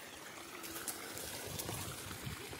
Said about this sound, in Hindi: ये देखो गाइस, उस खेत से पानी आ रहा है मेरे खेत में